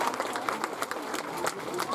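An audience applauding after a bird's fishing demonstration, a brief burst of scattered clapping from a crowd at moderate distance, with a voice talking over it.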